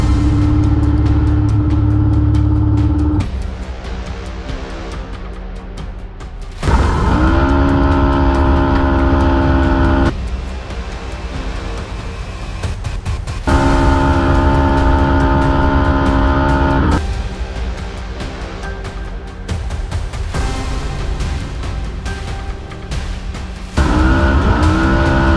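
Race cars running on a track during a first shakedown test day, loud engines surging and dropping repeatedly as they pass and accelerate, with steady tonal whine through each burst and no talking.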